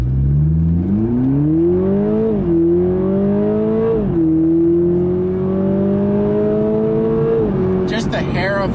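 A 2021 Toyota Supra with the 2.0-litre four-cylinder accelerates at full throttle, its engine note rising loud and close with shifts between gears before a brief noisy burst at the end.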